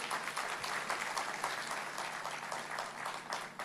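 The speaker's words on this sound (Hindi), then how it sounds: "जोरदार ताली बजा के स्वागत करें" An audience applauds at a ceremony during a bullion summit in India, a dense, sustained round of clapping from a large crowd in a hall, steady throughout.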